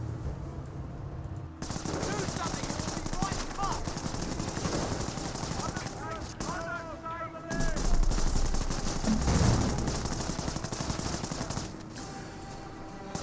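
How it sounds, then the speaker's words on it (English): Sustained gunfire from commandos in the World War II strategy game Company of Heroes, with bursts of machine-gun and rifle fire against German grenadiers, layered with battle noise and growing louder and denser midway. "Grenadiers do receive quite a bit of fire there from the commandos."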